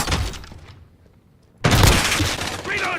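Video game gunfire: a loud burst of rapid shots at the start trails off into near silence, then a sudden heavy volley erupts and continues in dense bursts, with voices mixed in.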